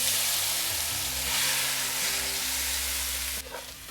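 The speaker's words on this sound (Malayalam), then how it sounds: "അരി സ്വല്പം നെയ്യ് ഒഴിച്ച് ഒരു 1-2 മിനിറ്റ് ഞാനൊന്ന് ഇളക്കിയതേ ഉള്ളൂ" Washed basmati rice being stirred and briefly roasted in ghee in a pot for a one-pot Kerala mutton biryani, giving a steady close sizzle with soft stirring scrapes, alone and without talk.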